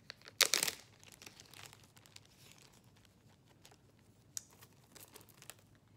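Tape torn loudly once, then crinkled and handled in a short burst followed by faint scattered rustles and clicks while a yarn cross craft is assembled for a children's Sunday school.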